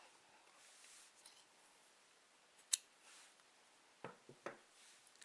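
Scissors snipping through crochet yarn, a thin sharp click followed by a couple of quick cuts, faint and close in a quiet room.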